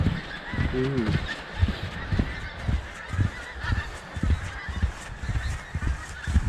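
A flock of geese in V formation honks repeatedly overhead on the Norfolk coast, calls rising and falling in a busy chorus over outdoor ambience, with a brief exclamation from a nearby person.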